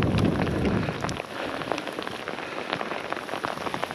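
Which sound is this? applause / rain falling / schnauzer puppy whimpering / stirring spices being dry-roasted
rain falling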